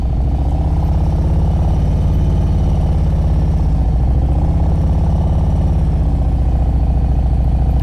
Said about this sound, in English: When I start moving this bike, I'm gonna have my clutch in the friction zone.